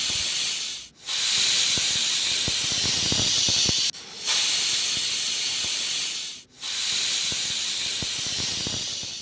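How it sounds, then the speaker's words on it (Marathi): A pressure cooker on the stove, cooking soaked rice and lentils for khichdi, lets out three long, loud, steady hissing whistles, each broken off by a brief gap. "आता आपल्याला कुकर लावायचं आहे आणि 4 शिट्ट्या काढून घ्यायच्या आहे."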